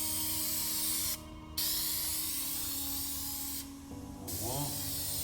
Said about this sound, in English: First spray is working. Give it a nice even coat.